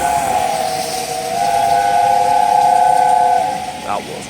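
Steam locomotive Tornado 60163 at York sounds a long, loud, steady whistle held for about three seconds over rail hiss and rumble, ending in a brief falling note.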